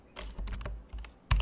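Typing a file name on a computer keyboard: a handful of close, crisp key clicks in an uneven rhythm, ending with a sharper, louder keystroke, no voice.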